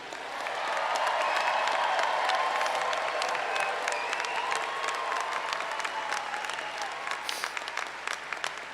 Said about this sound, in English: Let's have one more round of applause for all our graduates.